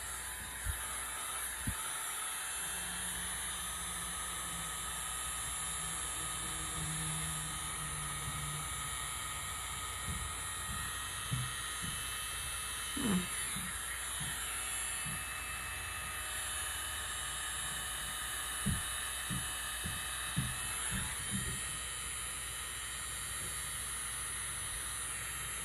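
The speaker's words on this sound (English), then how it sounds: "And let's use my little blow dryer." A small handheld blow dryer runs steadily and close by for the whole stretch, aimed at paint on a spin-art piece, with a few faint clicks and bumps over the constant whooshing hiss.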